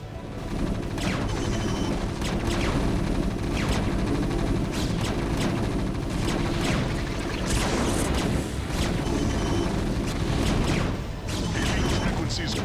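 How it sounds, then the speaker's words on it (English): StarCraft: Brood War battlecruisers fire Yamato guns at a Terran facility, with repeated heavy blasts and sharp weapon impacts rising over a constant, dense roar of battle noise throughout. "we order any other battlecruiser with enough energy to target the Terran facility with their Yamato guns"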